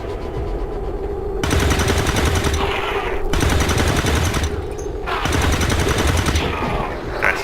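Overwatch gunfire in XCOM 2, three loud bursts of rapid automatic fire, each lasting over a second and separated by short quieter gaps, close and sharp, with a steady hum running beneath.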